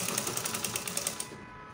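A sewing machine stitches fabric for a baby girl's halter-neck peplum top, a rapid, even run of mechanical clicks close by that stops after about a second, leaving quiet room noise.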